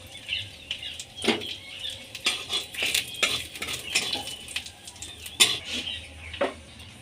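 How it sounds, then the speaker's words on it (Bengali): Bay leaf, one dried chilli and cumin fry in a little mustard oil in a kadai, with irregular spatula clinks and scrapes over a light sizzle. No one speaks. "এবার ওই কড়াইতেই আমি অল্প পরিমাণে সরষের তেল, একটি তেজপাতা আর একটি শুকনো লঙ্কা আর কিছু পরিমাণ জিরা দিয়ে ভেজে নেব।"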